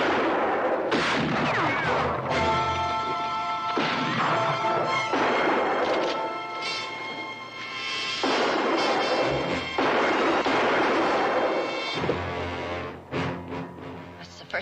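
Gunfire in a Western drama scene, a dense run of loud crashing reports and impacts spread across the whole stretch, broken by brief gaps, with no talking.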